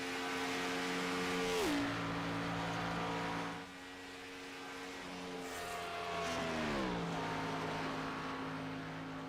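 A race car engine drones in a racing video game at Indy, a steady buzzing whine that drops sharply in pitch twice as the car shifts or slows, moderately loud and without talking.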